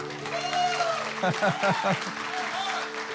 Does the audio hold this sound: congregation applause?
yes